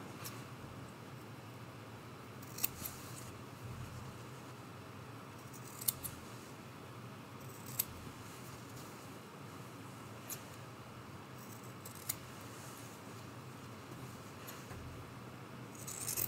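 Sewing scissors snip through the fabric seam allowance of an appliqué Christmas tree ornament, a handful of sharp isolated cuts spaced a couple of seconds apart over a quiet, faint background hiss.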